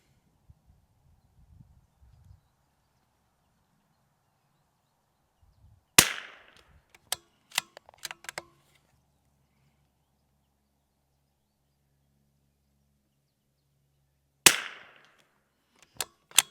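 Rimfire rifle shots with CCI Standard Velocity ammunition from a CZ455 or Ruger RPR, sharp loud cracks: one at six seconds, a quick cluster of light clicks and knocks, then another crack near fourteen seconds, with quiet gaps between.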